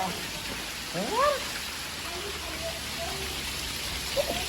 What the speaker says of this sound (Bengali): দেখো বৃষ্টি কেমন হচ্ছে ব্যাঙ্গলোরে